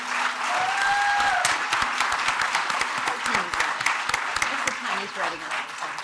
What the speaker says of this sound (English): join me again in giving these folks a warm round of applause for being here today